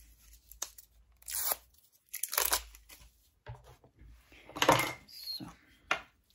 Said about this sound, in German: Den müssen wir natürlich erstmal von der Folie befreien.